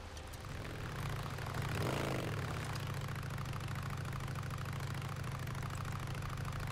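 A motorcycle engine from the Days Gone video game runs at a low, steady rumble throughout, swelling slightly near the start and then holding an even, continuous drone with no voices.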